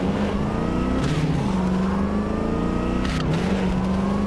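Car engine in Cyberpunk 2077 drones and revs continuously, pitch sliding up and down with shifts and a brief rise near the end, steady and close.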